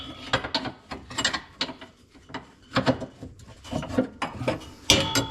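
A ratchet loosens a nut on a 1995 Jeep Wrangler, giving bursts of quick, close metallic clicking that start and stop in short irregular runs.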